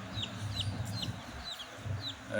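Free-range desi hens and their chicks, with short repeated high chick peeps over a low continuous bed of hen clucking, close and steady with no talking.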